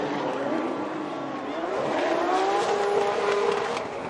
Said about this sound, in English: Big slap on Aasbo in that Toyota GR Supra